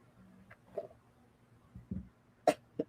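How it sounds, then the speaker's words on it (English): Several short coughs from one person, scattered irregularly with quiet gaps, the last two sharper and louder, close to the microphone with no talk. "I'm still coughing."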